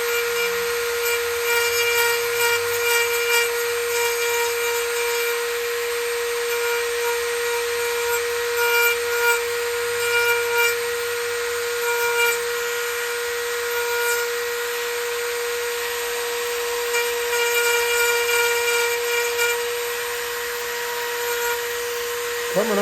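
A sandpaper friction pad grinds steadily against the rear fender of a 2009 Police Special motorcycle, producing a continuous, close rasping whir with a constant mechanical tone throughout.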